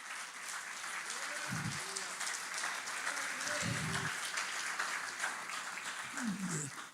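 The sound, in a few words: congregation applause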